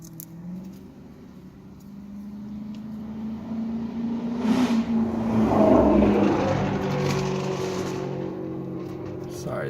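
Car club engines rev down the street, a low rumble that swells and peaks midway then stays steady, heard from some distance.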